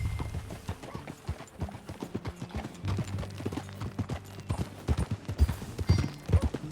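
Horse hooves clip-clop in Red Dead Redemption 2 as riders set off together, a brisk, uneven patter of many close, crisp hoofbeats that quickens and grows louder toward the end.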